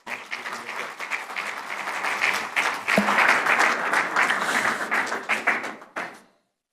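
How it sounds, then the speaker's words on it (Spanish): Audience applause for a panel moderator at a green hydrogen conference in Chile, steady broadband clapping from a large crowd lasting about six seconds before stopping abruptly. "Así que un fuerte aplauso para él."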